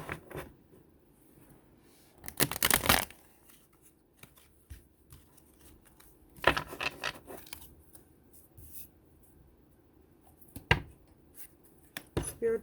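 A deck of cards is shuffled and cards are pulled in short, crisp bursts of riffling, with quieter handling rustles between them, close and fairly soft.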